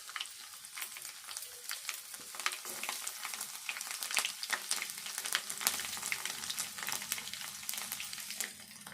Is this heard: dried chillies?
yes